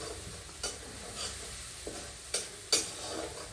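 Garlic sautéing in a pan for a thin urad dal soup, with a faint steady sizzle and a few soft stirring scrapes and clinks of the spoon against the pan, no voices.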